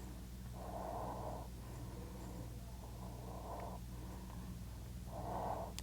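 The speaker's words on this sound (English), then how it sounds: "Take a deep breath in." Slow, deep breaths during a yoga exercise, three long airy inhales or exhales spaced a couple of seconds apart, close and fairly soft over a low steady hum.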